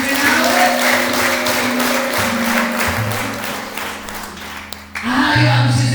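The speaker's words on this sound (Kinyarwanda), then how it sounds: "Komera Yesu amashyi kuko ari kumwe nawe." A church congregation applauds in a dense, sustained wash of clapping at close range, with sustained tones from musical accompaniment running beneath, the clapping swelling again near the end.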